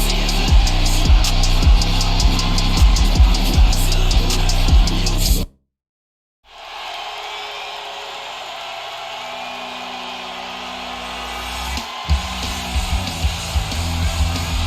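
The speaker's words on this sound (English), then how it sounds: "that's the sound of Kano Miller coming down the ring" Wrestling entrance music for Kano Miller in a Fire Pro Wrestling game, a loud driving beat with pounding low hits that stops dead, then resumes as a quieter, steady arena wash with a few later thumps.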